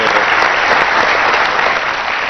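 Studio audience applause for a film hero guest on a Pakistani comedy talk show, a dense, loud, steady wash of clapping throughout with no speech.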